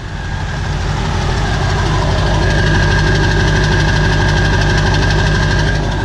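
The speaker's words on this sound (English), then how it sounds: "Completely different sounding truck, night and day." A diesel pickup engine idles steadily and loudly up close, a deep rumbling knock with a continuous droning hum and no talking.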